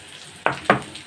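Butter dropped by the spoonful into a hot pan, giving two short bursts of sizzle about a quarter second apart, close and fairly loud, each fading quickly into a quiet kitchen background.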